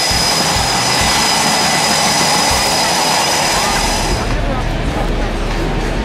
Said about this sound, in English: now there's F-18s getting ready to take off